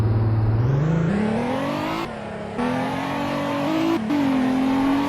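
Virtual Lotus sports car in Roblox Greenville accelerating hard from standstill in a 0 to 60 run, engine note climbing steadily with brief dips at each gear shift, loud and close with no talk.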